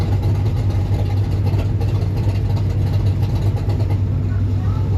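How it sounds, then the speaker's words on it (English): A nearby car with open exhaust and a big camshaft rumbles loudly at a drag racing event at a raceway, a constant heavy lumpy drone that fills the whole stretch; a voice talks over it. "Something beside us has open exhaust and a lot of camshaft."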